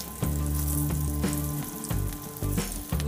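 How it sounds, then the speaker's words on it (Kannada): Cut mirchi bajji deep frying a second time in hot oil, a loud, dense sizzle and crackle close up, steady throughout with periodic thumps and clatter, no talking. "ಈಗ ಇದರಲ್ಲಿ ಮತ್ತೊಂದು ಸಲ ಚೆನ್ನಾಗಿ ಕೆಂಪಗೆ ಕರಿಬೇಕು"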